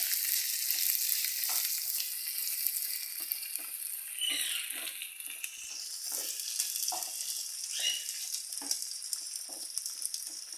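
Curry leaves, stems included, fry in hot oil for a Kerala garlic pickle, with a continuous close crackling sizzle and soft, repeated stirring taps running throughout.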